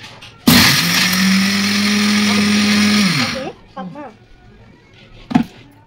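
A mixer grinder whirs loudly for about three seconds as it grinds sesame, flattened rice and moong dal, a steady high motor whine that winds down, followed by a faint voice and a brief clatter.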